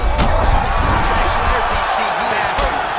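Heavy punches land in UFC 5 during a championship fight between Alex Pereira and Jiri Prochazka, two sharp, loud impact thuds near the start and end, over a steady roaring arena crowd with a commentator's voice faintly underneath.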